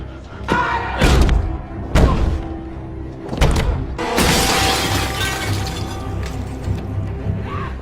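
In a horror film, several heavy thuds strike a glass window before it shatters in a loud crash, with bright debris scattering and ringing for several seconds afterward.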